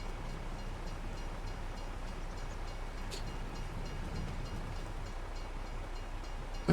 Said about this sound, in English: of course we timed the train, which will just make us wait for a minute.